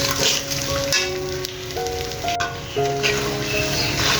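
Sugar and sliced hog plums sizzle and fry in a pan while being stirred for a sweet-sour pickle, a dense steady crackle with soft scraping strokes and faint background tones, no talking.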